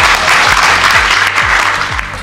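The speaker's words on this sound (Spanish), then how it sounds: "Un aplauso para ustedes." Applause for young golf players at a junior golf tournament awards event, a dense steady wash of many hands clapping throughout, with low rhythmic thumps underneath.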